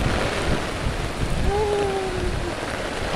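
Heavy rain and gusty wind roar in a dense, continuous wash outdoors during a storm, close and steady, with a faint whistle-like tone partway through.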